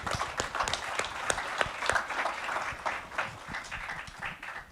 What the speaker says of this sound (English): I just want to stop here for a moment and just applaud the incredible work that the government